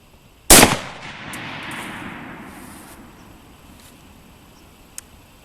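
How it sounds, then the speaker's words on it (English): A single G43 rifle with a ZF4 scope fires at a 300-yard target in an Eastern Front sniper game: one sharp, loud crack followed by a long rolling echo that fades over several seconds. "G43 ZF4 scope set on 300, shooting at an SR3 center at 300 yards"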